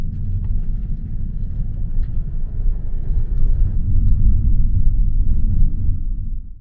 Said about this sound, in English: That's our shuttle bus. It's a free shuttle bus.